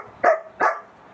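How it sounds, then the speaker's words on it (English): Two quick barks from dogs playing out in a yard, close by and moderately loud, then quiet. "my pups are out in the yard with me, and so if you hear some barking, you'll know why"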